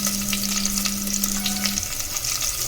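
Onions sprinkled with salt fry in a pan, giving a continuous bright sizzle with a faint steady hum underneath.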